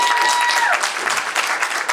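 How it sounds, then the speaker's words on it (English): Audience at a panel discussion on news media applauding steadily, a dense wash of many hands clapping close and loud for the full stretch, with no voices standing out. "I did not think that was the thing that was going to get the room full of applause"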